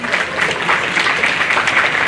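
Audience at a junior livestock show in Moore County applauds the senior showmanship kids, a steady dense round of clapping filling the whole stretch at moderate loudness.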